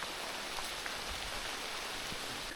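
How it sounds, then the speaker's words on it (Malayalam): Steady rain falling on an apple orchard in Shimla, a continuous even hiss of drops close around with no voices. "ഇവിടെ നല്ല മഴ നടക്കാണ്"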